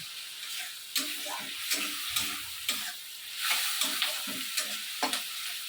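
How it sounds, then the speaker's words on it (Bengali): Onions frying in a pan with whole garlic, a close continuous sizzle punctuated by regular scraping strokes of a spatula roughly every half second, no voices. "এখন ভালো করে পেঁয়াজটা লাল লাল করে ভেজে নিতে হবে।"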